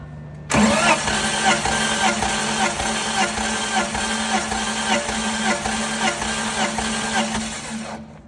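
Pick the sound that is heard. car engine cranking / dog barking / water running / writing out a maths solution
car engine cranking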